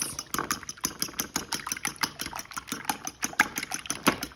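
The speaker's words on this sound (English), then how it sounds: "We're just going to whisk up the eggs." Eggs get whisked briskly in a bowl for a breading coat, a fast, regular run of close clicking beats of the whisk against the sides.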